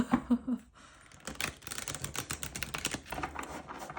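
Rapid papery riffling and flicking of tarot cards being shuffled, a dense crackling burst after a brief pause, close and fairly soft, with no voices.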